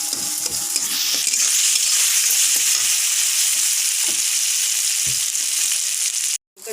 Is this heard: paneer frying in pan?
yes